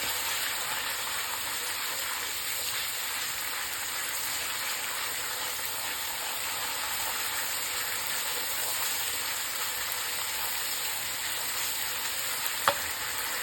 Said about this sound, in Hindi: हम इसमें एक टीस्पून हरी मिर्च वो भी रोस्ट कर लेंगे।